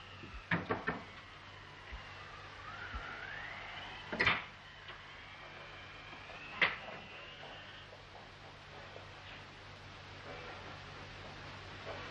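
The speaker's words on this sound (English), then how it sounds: "This is the door." An old door in a 1932 mystery film is opened and shut, giving a few soft wooden knocks and clunks spaced across a quiet, hissy background, with no talking.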